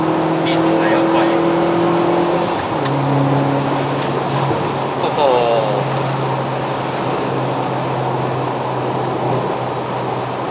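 A bolt-on turbocharged Proton Inspira 2.0 with a five-speed manual pulls hard through the gears on a Malaysian highway, its steady engine drone and road noise rising under the driver's ongoing speech.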